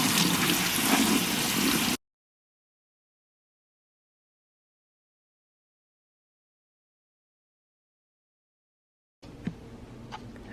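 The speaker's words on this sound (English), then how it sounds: "I'm gonna rinse these off" Running tap water rinsing food in a kitchen, a steady broadband rush that breaks off after a couple of seconds, then resumes faintly near the end with a few small knocks.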